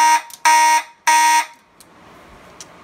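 Simplex 2001 fire alarm sounding loud and close: three harsh tonal horn blasts in quick succession, then the signal stops, leaving faint room noise and a couple of soft clicks.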